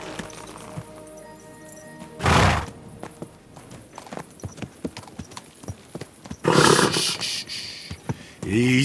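Rhythmic hoof clip-clops on a hard surface with a loud horse neigh partway through and another whinny near the end, in Kingdom Come: Deliverance II.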